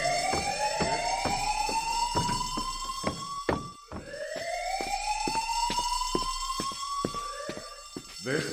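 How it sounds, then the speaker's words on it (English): A fire alarm in the game Who is Abby sounds loud and continuous, with two rising sweeping wails cut by sharp rhythmic clicks, and no talk over it. "This is a fire alarm. Please remain calm and clear the building."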